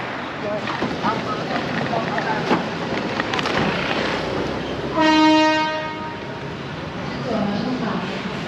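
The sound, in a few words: train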